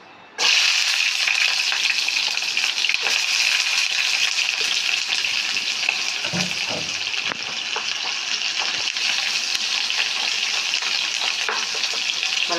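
Onion frying in hot coconut oil in a pan gives a loud, steady, close sizzle that runs throughout, with a brief clatter of stirring partway through.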